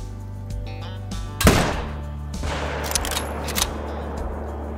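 A single sharp rifle shot fired at a whitetail deer in the hunting game Call of the Wild, one loud crack with a brief decaying tail over a low steady ambient hum, followed by fainter thumps.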